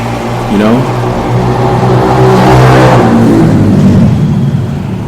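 Motorcycles revving their engines nearby, a loud steady engine drone with a rising rev sweep early on and another swell in the middle, under conversation.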